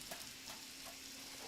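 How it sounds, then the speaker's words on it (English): Food sizzles and fries softly in a pan somewhere in the background, a faint, steady crackling hiss with no voices. "Y'all hear that sizzle in the background?"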